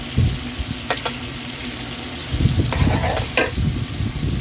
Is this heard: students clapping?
no